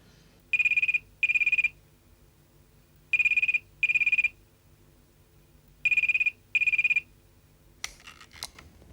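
A telephone rings during a call in a Hindi TV serial scene, sounding as three pairs of bright electronic double rings with short gaps between them, fairly close and clear, followed by a brief click or rustle at the end.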